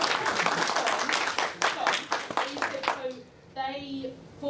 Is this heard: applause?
yes